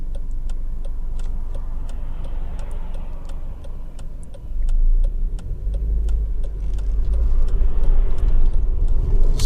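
A Honda Civic 1.8 i-VTEC Type S GT hatchback is driving on the road, heard from inside the cabin. A steady engine and road hum holds throughout and swells louder midway, with rapid ticking over it and no talk.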